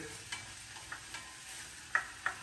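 Vegetables frying in a pan and being stirred, with a soft steady sizzle broken by several brief scraping clicks of the utensil against the pan, close and fairly quiet.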